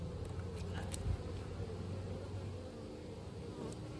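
Honey bees buzz steadily and close at a hive in a late-season apiary during the uniting of colonies, a continuous droning hum with a few louder passes of individual bees.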